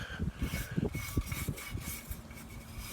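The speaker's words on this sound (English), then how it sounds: "Take a wire brush to it" A wire brush scrubs rusty metal after electrolysis rust removal, producing close, quick, rhythmic rasping strokes that are soft and scratchy.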